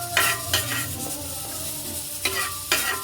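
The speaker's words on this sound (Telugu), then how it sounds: "ఇలా రైస్ అనేది తీసేసుకొని దీన్ని ఒకసారి ఇలా కలుపుకొని వచ్చేసి" Soaked rice for Telugu-style bagara rice being stirred in a pot, with scraping strokes over a low sizzle, a few distinct stirs in a short close burst and no speech.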